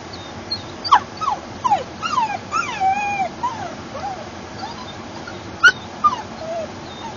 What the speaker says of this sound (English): She's panting as we're going home.